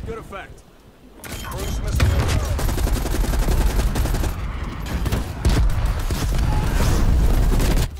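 RPD light machine gun fire during a Call of Duty match on Nuketown, with loud, sustained rapid bursts and surrounding gunfire over a brief quieter start, and a player talking at times.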